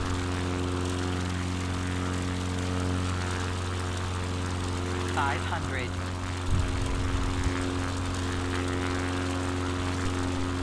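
An XCub light propeller aircraft cruising over the Black Hills of South Dakota near Mount Rushmore, its engine and propeller giving a loud, constant low drone with steady harmonic tones throughout and a brief rise in rumble partway through.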